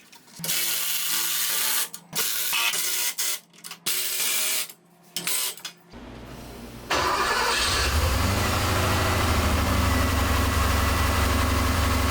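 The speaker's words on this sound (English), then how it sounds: "We did get the engine running." Some rhythmic mechanical clatter, then a Porsche 928 engine cranks and starts near the microphone, settling into a loud, steady idle that continues to the end.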